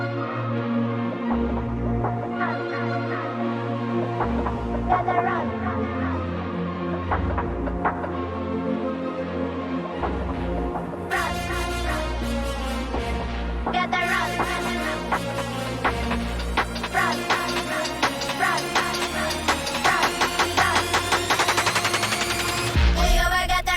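A dense electronic build section from a remix produced in Ableton, with a steady heavy low end and layered synths; bright, busy high layers surge in around the middle and keep rising toward the end, with no voices.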